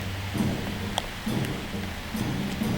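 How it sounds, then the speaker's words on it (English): Steady broadband hiss of heavy rain falling continuously, with occasional louder splashes and a low rumbling undertone. "we're in a nice downpour, guys"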